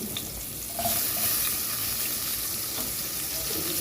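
Garlic and onion sautéing in oil in a pan for pechay with shrimp, a loud close sizzle that swells as the onion goes in and then holds as a steady crackle.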